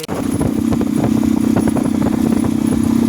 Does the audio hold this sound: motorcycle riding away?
yes